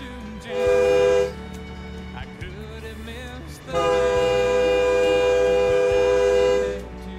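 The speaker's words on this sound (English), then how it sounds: "That is a loud horn." A train horn blares loudly in two long blasts, the second one longer, with faint talk beneath it.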